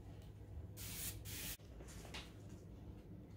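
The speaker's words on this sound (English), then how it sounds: "I'm gonna water down the back of the paper with a mister bottle." A mister bottle spraying water onto the back of thick paper before decoupage: two close, hissing bursts of spray in quick succession, then a fainter third puff over a quiet room.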